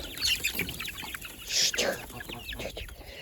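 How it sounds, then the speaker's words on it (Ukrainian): Chickens and roosters cluck and chatter in a farmyard, several birds calling in short bursts close by. "Це тут у нас з мого господарства курочки і півники."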